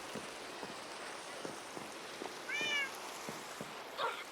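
Minecraft cats meow a few times, soft and faint over a steady hiss of falling rain.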